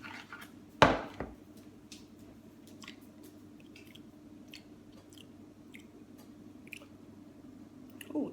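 Someone tastes raw chocolate brownie batter close up, with one sharp wet smack and then soft, quiet squishy chewing and mouth sounds in a hushed room.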